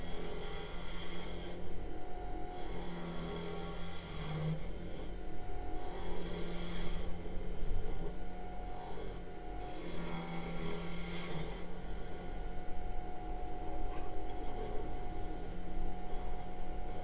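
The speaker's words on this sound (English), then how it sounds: "Like I said, it's turning really nice." Wood turning on a lathe: a steady low machine hum with repeated scraping and rasping bursts as the tool cuts, coming in rhythmic passes a couple of seconds long.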